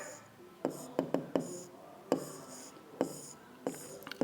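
Marker strokes on a board as a driver gear diagram is drawn, a series of sharp close taps and scratchy squeaks in uneven bursts, with no talking.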